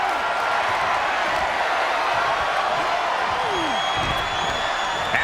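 In the WWE 2K25 video game, a wrestling arena crowd roars in a dense, continuous wash of cheering, loud and steady throughout, with faint whistles and shouts rising above it.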